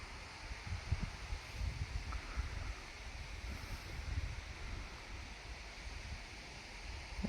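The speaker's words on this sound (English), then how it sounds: "Oh, it's super windy." Strong wind blows across a summer garden, a steady rushing roar with gusty buffeting against the microphone throughout and no talking.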